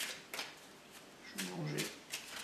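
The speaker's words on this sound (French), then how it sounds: "Tac, comme ça je mélange." A deck of playing cards is shuffled during a magic trick, a few quick riffling bursts and soft card slaps, close and moderately quiet, with a voice speaking over part of it.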